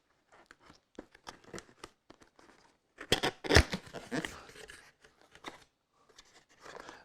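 Scissors snip through the packaging seal on a Seagate 8TB Backup Plus Hub box, a series of close, crisp cuts and crackles with a louder burst of rustling plastic in the middle.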